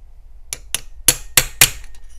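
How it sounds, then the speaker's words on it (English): A small hammer taps a tool held against a screw on a Mikuni BS34 carburetor from a police motorcycle, giving five sharp metallic clinks close up, two lighter then three harder, with no voices. "we're going to take our tappy tap tap hammer."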